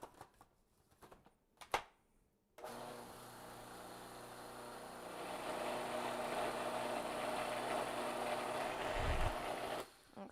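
A food processor whirs steadily, loud and close, while it mixes a no-bake fruit tart crust, starting after a few clicks and running for several seconds before it stops.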